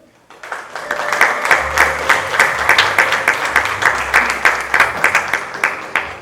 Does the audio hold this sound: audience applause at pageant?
yes